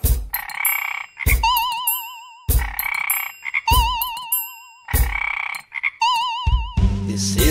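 Cartoon frog croaking sound effect in a children's song, four loud bursts of warbling, wobbly croaks in a regular repeating pattern, each set apart by short silent gaps, ending with a low tone.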